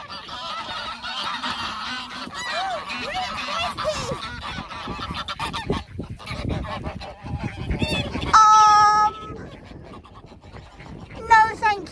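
Several geese honk and squabble close by in windy, rainy weather, with loud bursts of harsh calls rising over a steady noisy background while a person talks nearby.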